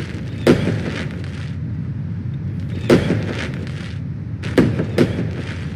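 Fireworks going off in PlayStation Home for New Year's, heard as three separate loud booms spaced a couple of seconds apart, each fading into a low rumble, with no talking.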